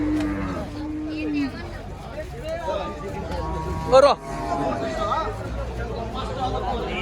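Cattle at a busy livestock market in Rajshahi, with a low moo or two from the animals amid steady crowd chatter and voices nearby, plus a brief louder burst midway.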